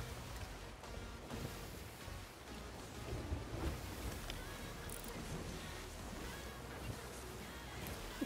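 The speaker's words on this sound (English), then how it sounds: "We're going right into a storm." A thunderstorm at sea in the Sea of Thieves pirate game, steady heavy rain and wind with low rumbling thunder rolling underneath, a dense continuous wash of noise with no clear talking.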